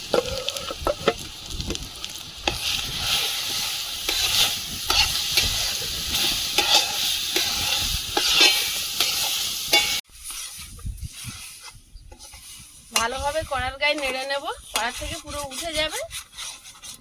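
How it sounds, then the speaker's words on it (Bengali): Ground lentil paste with jaggery stirred and fried in a pan for dhokar dalna, crackling sizzle and spoon scrapes, with someone talking over the cooking. "ডালটা বাটা দিয়ে দিলাম ডাল বাটাটা দিয়ে দিলাম"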